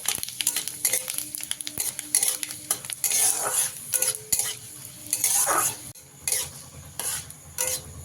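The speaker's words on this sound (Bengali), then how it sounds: "তেলটা গরম হয়ে গেলে ফোড়নে দিচ্ছি দুটো শুকনো লঙ্কা দিচ্ছি দুটো তেজপাতা আর দিচ্ছি হাফ চামচ পাঁচ ফোড়ন" Dry red chillies, bay leaves and panch phoron tempering in hot oil for papaya masoor dal, crackling and sizzling near and fairly quiet, with a spoon stirring and scraping against the pan throughout.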